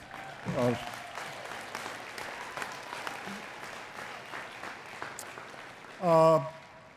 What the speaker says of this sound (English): you can clap for that if you'd like